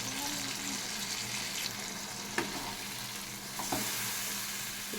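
Spice masala sizzles in a pan with ridge gourd and tomato as it is stir-fried, a steady moderate hiss with occasional spoon scrapes and clicks.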